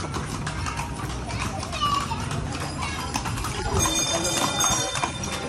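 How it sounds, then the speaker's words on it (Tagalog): A thin horse's hooves clip-clop in a steady rhythm as it pulls a carriage through the streets of Vigan City, moderately close, heard under ongoing conversation and children's voices. "Alam mo magaling yung kabayong payat."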